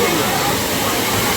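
The Savdav waterfall near Kankavli gives off a steady, close rushing roar of falling water with no breaks, and voices may be faintly mixed in.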